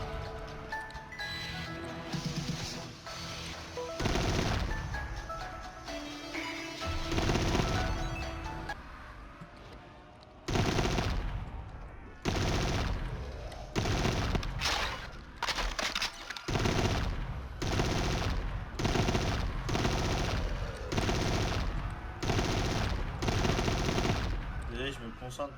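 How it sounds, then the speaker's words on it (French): Machine gun fire in a Pokémon video game comes in repeated loud bursts separated by short pauses, with a jingling game soundtrack underneath. "Time for Machine gun, barrel c'est to parfait ça. spin and bullets to spray."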